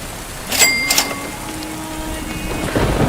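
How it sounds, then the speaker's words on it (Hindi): Sudden rain starts with thunder, a loud steady hiss of rainfall hitting surfaces, with a couple of sharp thunder cracks near the start and a low rumble later. "अरे बारिश शुरू हो गई अब।"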